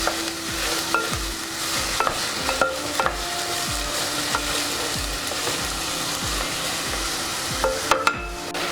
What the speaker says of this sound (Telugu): ఈ ఉల్లిపాయలు కూడా మంచి కలర్ వచ్చే వరకు కొద్దిగా వేయించుకోవాలి